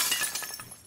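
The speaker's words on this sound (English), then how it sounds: "Time to break some glass." Glass shatters in the video game The Last of Us Part II, a bright crash followed by a quick scatter of tinkling shards, close and fairly loud, with no talking.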